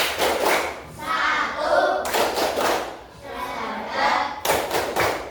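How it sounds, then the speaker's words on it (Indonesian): A group chants the tepuk rukun Islam, a rhythmic clapping routine counting the five pillars of Islam, with sharp hand claps in a steady beat and voices chanting throughout. "Coba tepuk rukun Islam."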